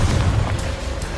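Confringo fire-curse explosions in Hogwarts Legacy burst loudly with deep booms and crackling blasts, several quick hits packed close together, near and dense with no talk.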